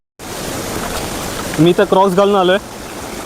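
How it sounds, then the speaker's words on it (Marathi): A water stream flows beside a jungle trail on the Bhimashankar to Bhorgiri trek during rain, giving a steady broadband rush throughout, with someone speaking briefly over it in the middle. "बाजूने असं पाण्याचा ओढा चाललाय"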